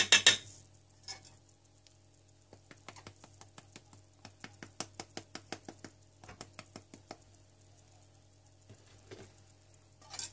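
A spoon clinks rapidly against a pot in a quick run of light taps, stirring a cold milk and starch mixture, with a quieter pause before a few more.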